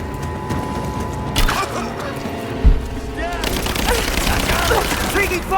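Combat in Rise of the Tomb Raider: rapid gunfire bursts and one heavy impact thud, with shouted voices mixed over the action.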